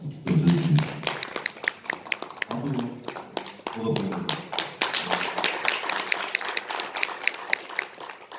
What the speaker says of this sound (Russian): Спасибо за ваши аплодисменты, за теплые приветствия.